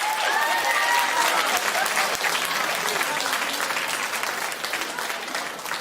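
Studio audience on a daytime talk show bursts into sustained, loud applause that holds steady for several seconds, thick crowd clapping with a few cheers mixed in, tapering slightly toward the end.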